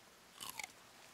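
Crunchy bites into blueberries in the survival game The Forest, two or three quick crisp chomps close up over a quiet background, with no talking.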